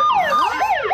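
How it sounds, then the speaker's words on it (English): A cartoon siren rigged onto a hat wails in rising and falling sweeps, loud and close, running alone for about a second. "I'll only use my hat siren for emergencies."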